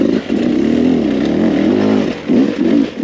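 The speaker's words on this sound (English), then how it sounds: "the power delivery itself on this Beta 300 motor is one of the best" A 2021 Beta 300RR two-stroke dirt bike engine revs loudly and close by, with a steady raspy drone that rises and falls through several throttle blips.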